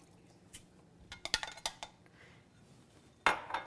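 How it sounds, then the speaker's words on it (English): A spoon clanks against a metal pot while chili with black beans is stirred, giving a burst of quick knocks and scrapes followed by a louder clatter, close and without talk. "So again, I'll give that a little stir."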